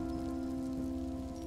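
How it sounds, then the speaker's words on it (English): Steady rain in the video game Evangeline, a soft, even patter on a surface that holds constant throughout, with a low steady hum beneath and no voices. "Sounds like it's raining."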